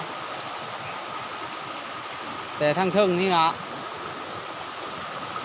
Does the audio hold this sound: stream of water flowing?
yes